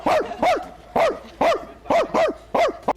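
A man imitates a dog, barking in a rapid series of about ten sharp, loud woofs, mostly in pairs, close to the listener.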